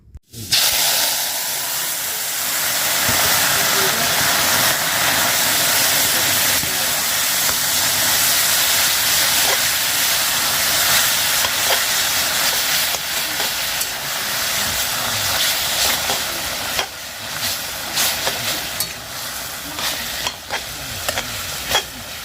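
Salted mixed greens cook in a covered kadai, giving a loud, steady sizzle and hiss that runs without a break from start to finish, close by and with no talking.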